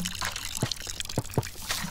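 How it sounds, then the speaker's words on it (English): Water pours and trickles onto a potted plant in the video game Botany Manor, a soft, quiet splashing with a few brief drip-like bursts over faint background sound. "Water it up."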